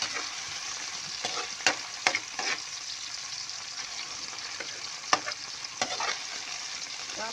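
Chopped tomatoes fry and sizzle in a pan while a utensil stirs them, with a steady hiss of cooking under sharp scraping strokes and clanks at irregular moments, close and fairly loud.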